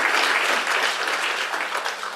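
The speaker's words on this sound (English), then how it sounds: "I think one last round of applause for all successful activities in this summit." An audience at a priests' ordainment ceremony and summit claps in a sustained, dense round of applause, loud and close, steady throughout with no voices breaking through.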